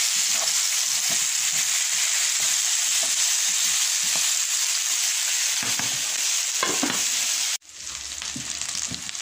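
Rice frying in oil in a pan for biryani, a steady loud sizzle with faint stirring scrapes running throughout, briefly cutting out near the end and then resuming.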